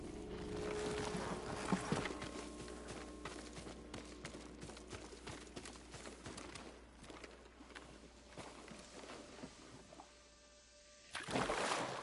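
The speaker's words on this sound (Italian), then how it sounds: "Sei un bravo cavallo, Kage." Horse hooves clip-clop at a walking pace in the Ghost of Tsushima video game, a steady run of close, distinct strikes over a soft ambient bed, briefly quieter before a louder swell at the end.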